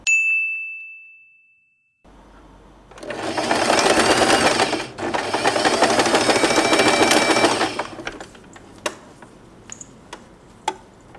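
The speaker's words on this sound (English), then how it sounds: "now fold the fabric on the left and the right side, and we are going to sew this part." A sewing machine stitches fabric for a two-layer hair bow in a steady, loud, close run of about five seconds with a short break. Afterward come a few sharp metallic ticks and clinks.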